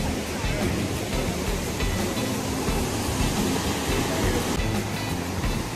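Waterfall at Poço do Tarzan in Paraty, a constant loud, broad rushing roar of falling water that stays unchanged from start to finish.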